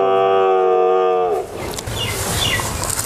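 A bull calf, apparently a Sahiwal, Gir or Brahman cross, gives one loud, close, sustained moo lasting over a second, followed by rustling and shuffling farmyard noise.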